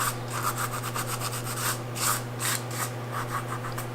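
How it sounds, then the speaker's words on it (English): Dried salt rubbed off a watercolor painting by hand, a steady rhythmic brushing scrape of quick repeated strokes, close and moderately loud over a constant low electrical hum. "This is the one we put salt on. So we just rub the salt away."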